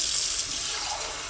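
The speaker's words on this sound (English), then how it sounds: "How do I turn on the tap and..." Water runs from a sink tap in a steady, close hissing stream, loud and continuous with no voices over it.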